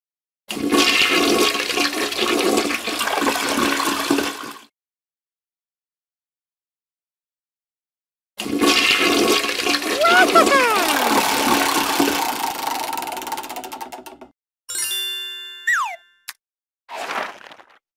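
A cartoon toilet flushes in an Elmo potty-time children's game, two long whooshing swirls of water separated by silence, followed by short springy boing effects and rising whistles.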